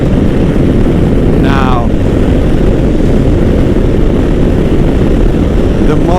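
A modified Suzuki DR650 motorcycle cruising at highway speed, giving a steady, loud broadband engine and wind roar throughout, with a brief voice heard over it.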